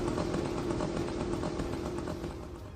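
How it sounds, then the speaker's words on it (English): A Shahed-136 kamikaze drone's two-stroke engine drones continuously at an even pitch, fairly loud and close, with a slight rattling clatter and no voices. "you will be hearing a two-stroke moped buzzing in the air"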